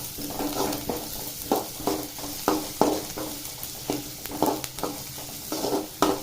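Crushed ginger, garlic and cinnamon frying in a pan for egg gravy: a steady sizzle broken by repeated, rhythmic scraping strokes of a spoon, close and moderately loud, with no talking.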